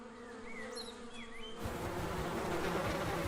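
Thousands of honey bees buzz at their hives, a dense, steady hum that starts softer with a few individual insects flying past, then swells suddenly into a louder, close swarm drone.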